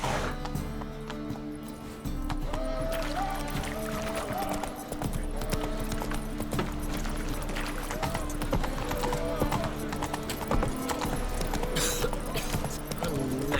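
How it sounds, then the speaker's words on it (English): Horse hooves gallop in The Witcher 3 video game, a steady, close clip-clop rhythm running the whole time over a dense layer of game music and ambience, with a brief whinny-like sound. "Not so fast, Roach."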